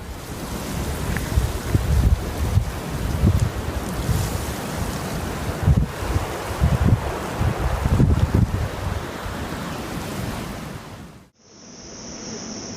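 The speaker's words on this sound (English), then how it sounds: "The wind's power sends the waterfall's flow soaring upward, making it look as though the laws of physics are being broken." Strong wind buffets the microphone beside a waterfall whose flow is blown upward, producing a loud, continuous rushing roar with heavy gusting thumps, then cutting off abruptly near the end.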